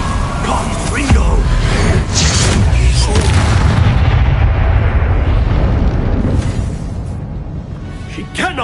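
A Confringo explosive spell in Hogwarts Legacy erupts in a loud, sustained fiery blast that booms and then fades, with a voice heard over it.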